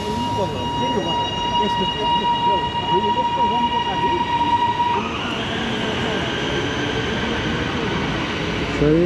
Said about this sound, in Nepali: यो इलेक्ट्रिक ट्रेन भयो त्यो डिजलबाट चल्ने ट्रेन